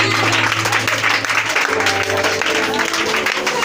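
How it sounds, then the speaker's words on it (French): A church congregation applauds and acclaims Jesus in dense, continuous clapping over a sustained low musical hum, loud and crowded throughout. "Est-ce que tu peux encore l'acclamer?"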